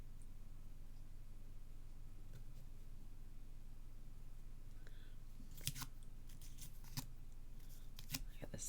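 Scissors cut through card in a handful of sharp, close snips clustered in the latter half, over a quiet background hum.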